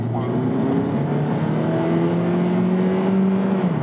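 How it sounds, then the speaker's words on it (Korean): A small-displacement compact sedan engine, a Volkswagen Jetta or a Hyundai Avante Hybrid, revving and held at high RPM with a steady, rising whine over a low drone, loud and close throughout. "근데 이 엔진 소음이 좀 듣기 좋은 편이 아니다."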